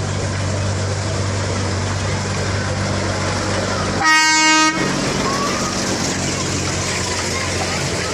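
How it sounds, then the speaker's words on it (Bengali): A toy train ride at Nicco Park amusement park rolls along with a steady, loud rumble, broken midway by a single short horn toot lasting about half a second. "এই টয় ট্রেন রাইডটি আপনি সর্বপ্রথম করে নিন"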